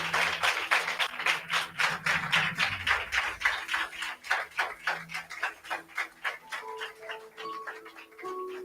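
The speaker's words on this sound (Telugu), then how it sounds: "గట్టిగా చప్పట్లు కొడదాం అందరూ కూడా ఒకసారి" A church congregation claps loudly together in a fast, steady rhythm, the claps gradually thinning out as a few tonal notes from an instrument enter toward the end.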